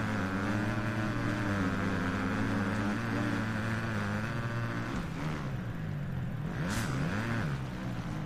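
Motocross bike engine in the MXGP 2020 racing game, revving steadily throughout with rising and falling pitch sweeps near the end, loud and continuous under faint background talk.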